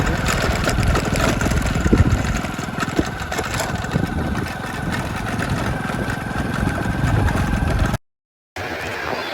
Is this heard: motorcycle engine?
yes